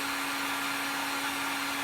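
Heat gun blowing hot air to dry work during a Gamo Swarm air rifle piston replacement, a steady broadband whoosh with a constant motor hum, moderately loud and unbroken throughout.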